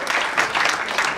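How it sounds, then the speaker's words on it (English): A brief burst of audience applause at a women's awards event, dense and steady clapping from a crowd lasting just over a second. "A round of applause for her,"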